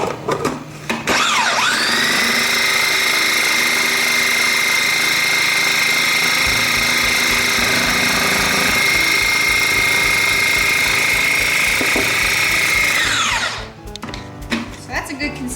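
Acorn squash being pureed in a blender: a loud, continuous motor whine runs for about twelve seconds, chunky contents churning, before spinning down to quiet.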